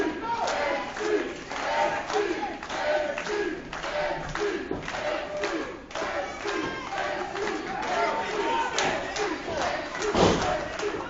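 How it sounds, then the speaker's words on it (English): Wrestling crowd at an IWC indoor show roars steadily in support of a wrestler, with loud sustained cheering, shouts and occasional thuds throughout, and a commentator's voice partly mixed in. "And the crowd firmly behind HD."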